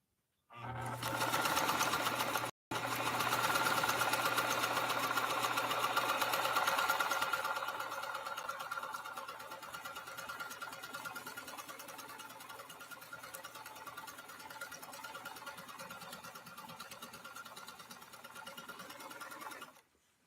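A black Pfaff 230 sewing machine stitching an ornamental decorative pattern, a fast steady mechanical whir with a brief stop early on, then running on at a slower, quieter pace until it halts.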